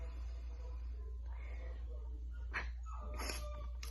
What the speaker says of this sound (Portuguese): A pessoa gravando e o cachorro latindo.